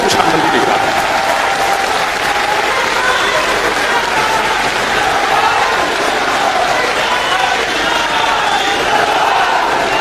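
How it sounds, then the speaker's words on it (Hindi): A standing crowd at an education town hall in Prayagraj claps and cheers loudly for the education minister, a dense, continuous roar of applause throughout. "एक बार अपनी अपनी जगहों पे खड़े होकर जोरदार तालियां बजाइए, दिल से तालियां बजाइए"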